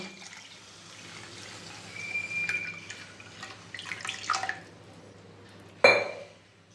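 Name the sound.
water poured into fried spice paste for potato curry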